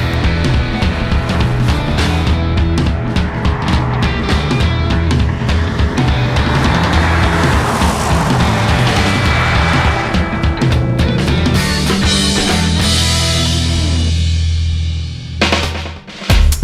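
A loud, continuous engine roar with a gritty, warbling five-cylinder tone from an Audi TT-RS 2.5-litre five-cylinder engine, steady for a long stretch before cutting off near the end.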